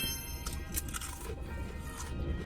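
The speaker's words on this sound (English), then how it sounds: "It's so perfectly crunchy, and it's not too oily." Thick seasoned snack chips from a Japanese 7-Eleven crunch as someone chews close to the mic, a continuous crisp, crackly munching with no speech over it.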